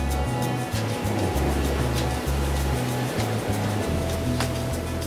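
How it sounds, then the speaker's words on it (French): Ocean waves break on a reef in a steady, full roar of surf that continues throughout with no talking, a low rumble running under a wash of hiss. "C'est carrément top les vagues là"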